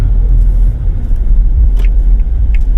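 A Suzuki Jimny 5-door GLX with a 1.5 engine drives at steady speed, giving a constant low engine rumble and road hum close inside the cabin, with no talk over it.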